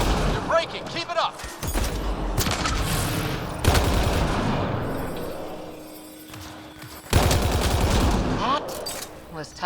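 Video game gunfire in Mass Effect Andromeda rattles in dense bursts of rapid shots and thuds, fairly close and continuous across the clip, with character voices speaking over the combat.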